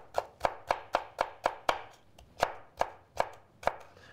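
A knife dices pepper into fine brunoise on a cutting board, giving about a dozen crisp, evenly spaced chops, a brief pause, then a few slower chops, close and clear.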